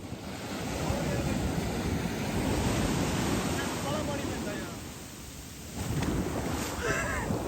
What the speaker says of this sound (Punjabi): ਛੱਲ ਜੀ ਆਉਂਦੀ ਆ ਨਾ ਪੈਰਾਂ ਤੇ